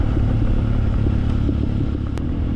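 Honda XR150 motorcycle engine fitted with a new full exhaust, a removed airbox snorkel and a 115 carburetor jet, idling or running in a steady low, continuous rumble with a faint brief higher whine partway through.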